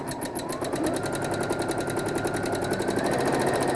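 A sewing machine stitches wavy cross-hatch quilting lines behind applique, a fast, steady mechanical chatter with a high rhythmic clicking, close and continuous with no talk.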